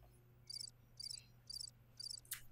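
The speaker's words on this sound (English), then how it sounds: "Casey and Crickets." Crickets chirp outdoors at night near Lake Eola in downtown Orlando, giving four evenly spaced high trilling bursts and a fainter fifth one. The chirps are faint and distant over a quiet background, with no talking.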